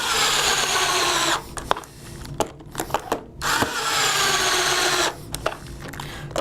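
A power drill tightens screws on a front gear platform in two loud, sustained whining runs, separated by clicks and clatter of handling in between.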